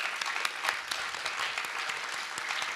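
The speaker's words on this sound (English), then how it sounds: "Quick round of applause for Laura." Audience applause at a public panel event about Seattle's overdose crisis: a steady, dense patter of many hands clapping at moderate distance, sustained throughout with no talking.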